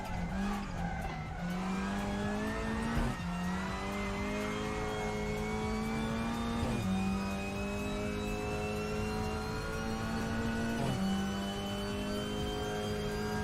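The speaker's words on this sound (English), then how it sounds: "This car has great engine sound." Race car engine in the RaceRoom sim racing game at Brands Hatch Indy circuit, loud and steady, revving up through gears with sharp shifts around every few seconds, droning on alone without voices.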